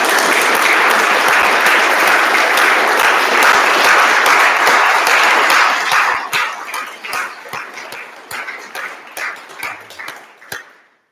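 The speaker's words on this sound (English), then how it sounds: "So let's show our appreciation with a big round of applause." An audience applauds after three short talks, producing steady dense clapping for about six seconds that breaks into scattered individual claps and tapers away, with a dog barking faintly in the background.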